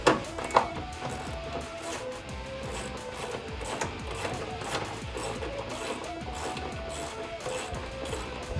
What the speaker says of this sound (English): I will remove the retaining bolt from the stock airbox using a 13mm socket and a socket wrench